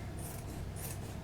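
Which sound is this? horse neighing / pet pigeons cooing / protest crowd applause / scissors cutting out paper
scissors cutting out paper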